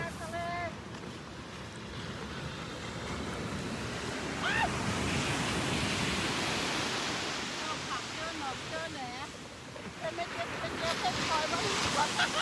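Ocean waves wash continuously along the shore at Santa Barbara at sunset, a broad hiss of surf mixed with wind buffeting the microphone, while someone talks faintly over it.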